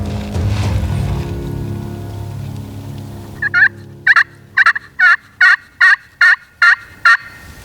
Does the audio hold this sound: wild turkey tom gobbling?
yes